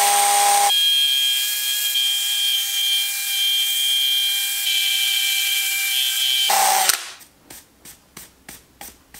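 A power drill spins an 80 grit brush against charred wood for shou sugi ban, giving a loud steady whirring scrub for several seconds. It then stops abruptly, followed by a series of short, rhythmic brushing strokes.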